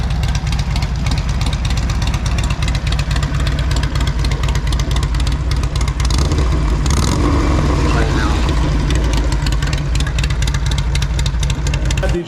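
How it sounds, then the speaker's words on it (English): A Harley-Davidson Sportster motorcycle with a 2-into-1 exhaust runs close by, a loud, deep, steady idle with a thumping lumpy pulse and a brief blip of throttle midway, then settling back to idle. "So here's my current 2-into-1 setup on a Sportster. Just the sound of it"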